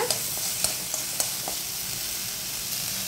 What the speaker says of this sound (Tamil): ஸோ இதையும் கொஞ்சம் வந்து வதக்கிக்கலாங்க.